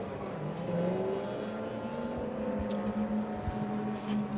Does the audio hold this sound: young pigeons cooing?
no